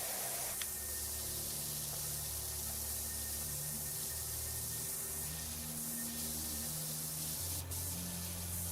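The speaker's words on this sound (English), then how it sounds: "when you like spray something with water you get it like dripping down" Steady, close hissing spray of water from a pressure washer in PowerWash Simulator 2, running continuously without pause with a few faint background tones and no talking.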